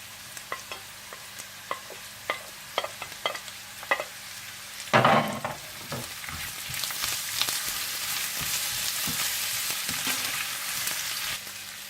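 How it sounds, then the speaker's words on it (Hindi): Potatoes and onions fry in a pan for a Spanish omelette. Scattered scrapes and taps of stirring come first, then a steadier, soft sizzle builds and holds to the end, with no voices. "जब इस तरह से आलू थोड़े से ब्राउन हो जाएं और गल जाएं तो आप इसमें प्याज डालकर थोड़ा सा पका लें"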